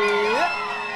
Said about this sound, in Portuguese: Gostou, dá um gritão aí.